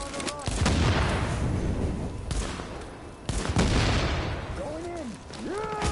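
Pistol fire and combat noise in Tom Clancy's The Division, loud bursts of shots and booming impacts across the stretch, with shouted voices breaking in near the end.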